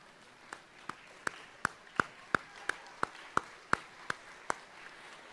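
Students at an underclassman award ceremony clapping for their parents: faint, distant, evenly spaced single claps, about a dozen sharp hits in a slow steady rhythm over a quiet room.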